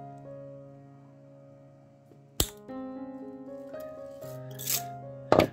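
Scissors snipping through material during a Gaslands toy-car scrap build, a few sharp close cuts over a quiet room with a faint steady hum and light handling clicks.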